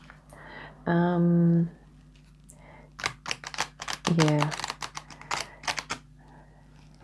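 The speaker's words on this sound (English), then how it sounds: "Let's quickly do a fan shuffle." A stack of tarot cards is fan shuffled in quick riffling bursts, soft papery flutters, while a person speaks briefly alongside.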